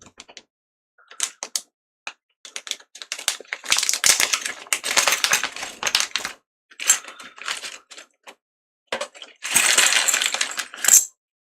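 Screws rattling and clicking inside a plastic bag during a PS4 Slim repair, a close series of irregular clattering bursts and crinkles with brief pauses.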